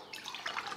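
Two glasses of water poured into a whisked cooking oil and egg mixture for a garden fertilizer, a brief, soft trickle and drip lasting under a second, faint and alone.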